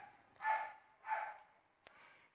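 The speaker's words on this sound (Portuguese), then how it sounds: "Vocês estão ouvindo cachorros latindo?" Two short bursts of dog barking from a moderate distance, spaced about half a second apart, followed by a faint click.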